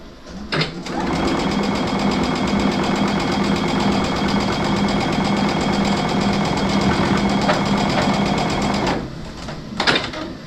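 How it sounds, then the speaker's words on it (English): A sewing machine runs steadily for about eight seconds, stitching quilt border pieces for a flying geese border, with a close, continuous whirring hum, then stops; a brief clatter follows near the end. "let's sew this one on"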